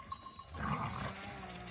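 Sheep and goats being moved into a new semi-open farm pen bleat and call over a steady background hum, with a louder cluster of animal cries midway and no speech.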